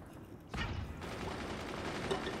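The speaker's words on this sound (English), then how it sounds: "Miniguns coming in here to take out these gunners." Miniguns fire in the Forts strategy game, a sudden burst of rapid gunfire that kicks in after a quiet start and rattles on as a dense, continuous stream of shots, with no speech.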